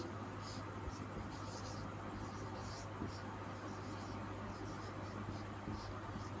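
Faint scratching of a pen or marker writing chemical formulas, soft and steady over a low electrical hum in a quiet room.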